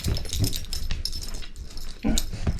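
Puppies whimper and yip in a busy, close jumble of small high cries, with rustling and movement mixed in throughout.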